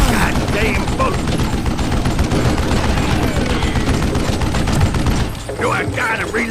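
Call of Juarez: Gunslinger gameplay brings dense, rapid gunfire, with shots rattling almost continuously at close, loud range, and a voice talks briefly near the end.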